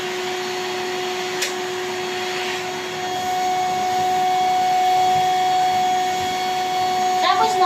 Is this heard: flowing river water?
no